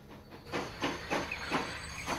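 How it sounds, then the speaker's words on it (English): A train pulls into a station in Transport Fever 2, its rhythmic chugging bursts of steam hiss repeating about every third of a second, moderately close over a low rumble, with no talking. "We're pulling in now, and we're going to go ahead and catch a ride on the train."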